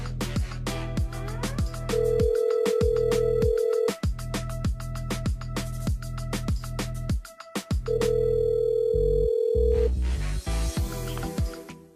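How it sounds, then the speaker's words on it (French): A telephone line rings during a live call on a French radio show, with repeated ring tones punctuated by clicks and beeps, loud and close, with no voices. "On appelle Aurélie du côté de la plaine des CAF."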